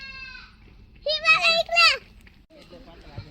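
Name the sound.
goats bleating on a Beetal goat farm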